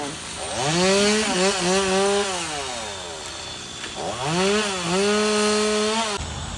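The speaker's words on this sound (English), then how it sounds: "now they're trimming back the limbs off that tallow tree in the corner" A chainsaw trims limbs off a tallow tree outdoors in two long revving passes. The engine pitch rises and falls with each cut, with a short lull between them.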